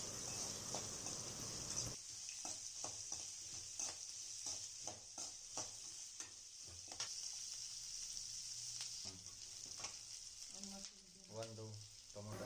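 Onions frying in a pan with green chillies and curry leaves for poha, a steady faint sizzle with a run of rhythmic stirring scrapes, and a clatter near the end.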